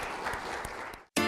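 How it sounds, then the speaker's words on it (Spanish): Church congregation clapping in praise during a Spanish-language service; a brief burst of crowd applause, then a sudden short silence before another sound cuts in. "Démosle un buen aplauso al Señor."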